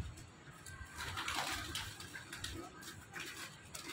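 Pigeons cooing on a rooftop, soft murmuring coos mixed with light rustling and a flutter of wings, fairly faint and steady, with no clear speech.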